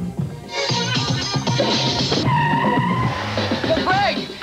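An Eagle Talon car brakes hard with a screeching tire skid in a 1994 television commercial, a loud squeal lasting a couple of seconds over a busy background.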